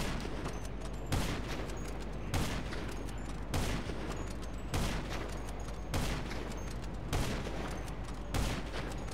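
Sniper rifle fire in GTA 5 Online rings out as a run of loud, evenly spaced single shots, about one every second, each with a sharp crack and short decay, with no talking.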